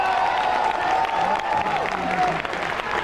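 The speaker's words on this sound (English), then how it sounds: "one more round of applause," A tennis crowd at a 2001 Hong Kong women's match bursts into steady, dense applause that fills the whole short stretch, with faint speech over it.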